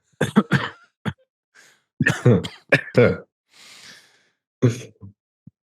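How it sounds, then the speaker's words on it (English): Several short, sharp coughs and throat-clearing sounds in quick bursts, with a breathy sigh between them, close and fairly loud. "I think we all should give him a cough"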